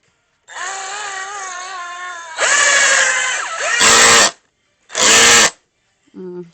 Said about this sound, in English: I feel like I did better like drilling stuff sideways